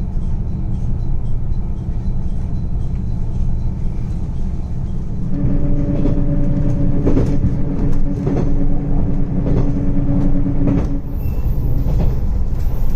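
The Tsurugisan limited express train pulls into Anabuki Station in Shikoku. A loud, steady onboard rumble carries a rising whine and clanks as the train slows.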